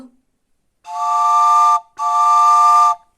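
A steam train whistle sounds in two long, loud blasts separated by a brief gap, clear and harmonic, with no other sound around it.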